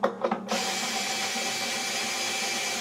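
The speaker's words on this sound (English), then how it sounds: "And it is so much faster when you do it with a drill." A power drill whirs steadily while unwinding guitar strings, a few short stuttering bursts at first, then one continuous high motor whine close to the microphone, with no talk.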